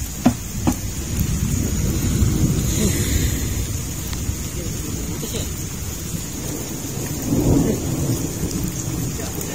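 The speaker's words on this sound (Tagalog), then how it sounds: "Ang lakas ng ulan." Heavy rain pours steadily on a house while thunder rumbles low beneath it, with a voice speaking faintly now and then.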